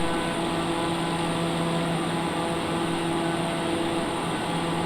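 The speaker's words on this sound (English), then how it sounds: "we see the airplane is heading almost in the right direction" A TBM930 turboprop airplane in flight cruises toward a racetrack, giving a steady, loud cabin drone with a constant engine and propeller hum and no break across the clip.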